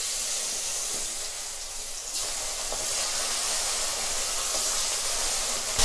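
Pieces of oily large fish head frying in hot oil, a steady loud crackling sizzle with spattering pops throughout, close up and with no talk.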